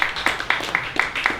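An audience at a book launch claps, with steady, evenly spaced claps ringing out close and clear in a room.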